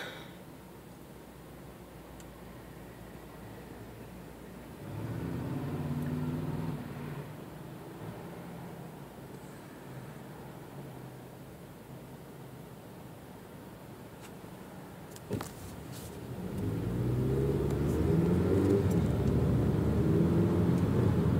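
Highway traffic passes on an eastbound Idaho road in a 45 mph zone near a town intersection, heard as steady low rumbles with vehicles swelling by, one mid-way and a louder, closer one near the end.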